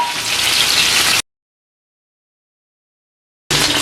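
Salmon pieces frying in hot oil for a Sri Lankan fish curry, a loud, close, steady sizzle that cuts out abruptly and then resumes.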